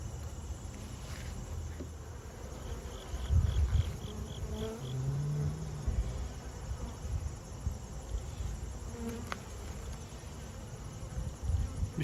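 Honey bees buzz steadily around an open hive during a beekeeping inspection, a dense close droning hum filling the whole stretch with no one talking.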